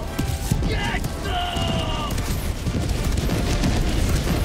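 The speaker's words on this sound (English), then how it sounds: "Everything is exploding" Explosions in the video game Helldivers 2, dense rumbling booms and crackling blasts rolling continuously under a chaotic mix, with a tonal alarm-like tone briefly layered in the first half.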